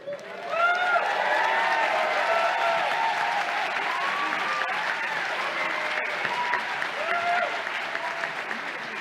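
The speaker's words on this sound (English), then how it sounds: "please hold your sustained applause until all the candidates for the Juris Doctor degree have received their diplomas" Applause rises at a 2023 law school commencement ceremony as Juris Doctor diplomas are awarded. Sustained, moderately loud clapping fills the hall while a speaker talks over it on the public address.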